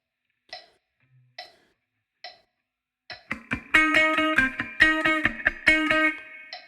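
Electric guitar run through effects plays a funky bar from a song: four soft count-in clicks, then a loud, bright, rhythmic pattern of choppy chords and muted notes, alone.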